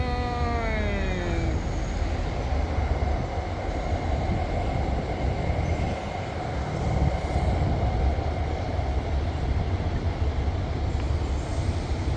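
A QSY train hauling JR cars on an ETCS test run along Bangkok's Red Line rumbles past nearby, loud and steady throughout, with a falling tonal whine at the start.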